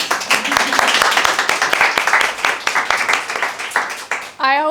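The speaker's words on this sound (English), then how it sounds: "let's give a hand of applause" Seminar audience applauding to welcome a speaker, steady dense clapping from a room of people lasting several seconds before a voice cuts in at the end.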